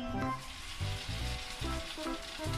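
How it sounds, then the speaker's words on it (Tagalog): Fish fries in oil, which sizzles and crackles steadily with a constant bubbling hiss and occasional louder spatters. "Prito lang kami."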